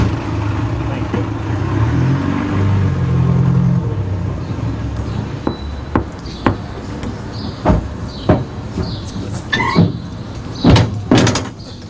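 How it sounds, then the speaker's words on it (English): A door being worked in a car: a muffled rumble gives way to a series of sharp clunks, clicks and latch knocks, close and fairly loud, with voices mixed in. "I see you've mastered the door, Duckham."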